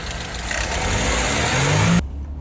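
Mercedes W210 with an M111 engine being revved, a loud, close engine note that rises in pitch over two seconds, then cuts off abruptly into quiet.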